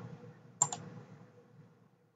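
A computer mouse clicks in a quiet room during Windows Server Group Policy work: one crisp double click near the start, with faint background hum.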